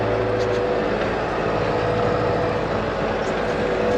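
A tractor pulling an Esch tedder across a hay field, with a steady, loud engine drone and mechanical rumble running continuously and close.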